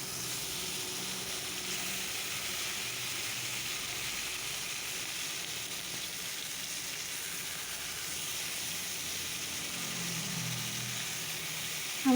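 Small fish fry in oil in a pan as they are turned over one by one, a continuous even sizzle heard close, with faint scraping near the end.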